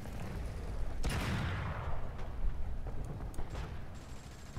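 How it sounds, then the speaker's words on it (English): Tank gunfire in the War Thunder combat game rings out as a sharp cannon blast followed by a long rumbling echo, with scattered further shots and impacts over a busy battlefield background. "Gotten into a bit of a shooting match here"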